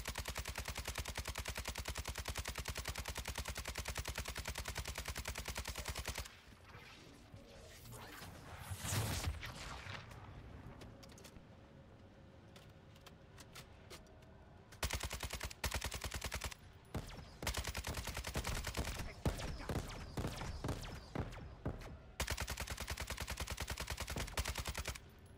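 Sustained automatic gunfire rattles in the video game DMZ, loud bursts of rapid shots broken by quieter stretches with scattered single shots and reload clatter.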